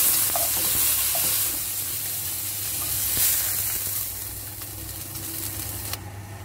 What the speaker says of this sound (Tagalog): At biprito natin ulit.